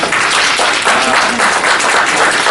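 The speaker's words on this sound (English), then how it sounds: "Give and clap for yourself." An audience at a Saturday morning rehab talk claps for themselves, producing a sustained, fairly loud burst of applause with no speech over it.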